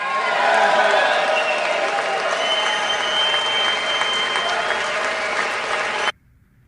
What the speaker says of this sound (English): this gave the president, I think, his longest sustained applause of the night.